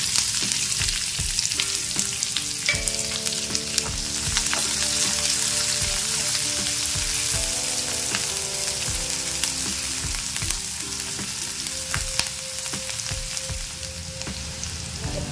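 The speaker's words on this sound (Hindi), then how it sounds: "अब इसमें डाल देते हैं प्याज," Chopped onions sizzle and fry in a pan for masala oats, a dense continuous crackle close up with occasional utensil clinks and stirring scrapes, no talking.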